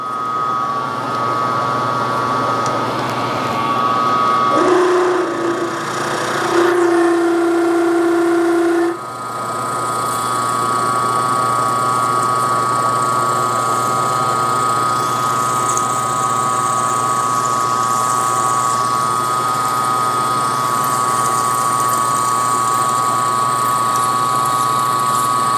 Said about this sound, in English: I'm going to grab a 1/2 inch drill